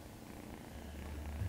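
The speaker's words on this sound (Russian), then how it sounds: "Он мурчит." A kitten purrs softly and steadily, close by and faint, a low continuous rumble with no talking over it.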